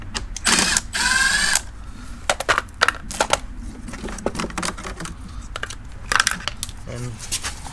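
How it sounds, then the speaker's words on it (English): Ratchet undoing a bolt on a flood-damaged 2008 Porsche Cayman S 987 near the HVAC box: sharp clicking bursts and metallic rattles in irregular clusters, close and fairly loud with quiet gaps between. "need to undo this bolt"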